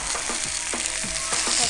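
Roma tomatoes roast in hot oil in a pan with a steady, dense sizzle and crackle, broken by occasional stirring scrapes, close and continuous throughout.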